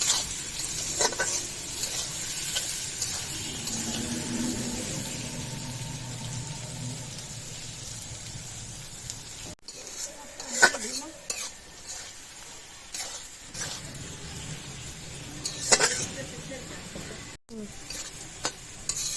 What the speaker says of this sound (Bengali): আলু আর পেঁয়াজ একসাথে খুব ভালো করে ভেজে নেব।